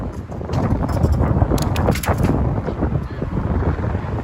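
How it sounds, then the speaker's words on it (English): Wind buffets the microphone on a Manhattan street near Hudson Yards at night, a steady low roar with gusty rumbling that persists throughout, while a voice speaks briefly over it. "And it's another windy night here."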